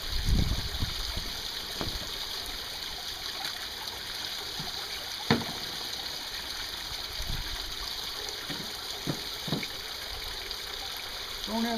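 Creek water runs steadily at a gold prospecting spot, a continuous broad rushing wash with a few brief knocks and splashes over it, fairly close and even in level throughout.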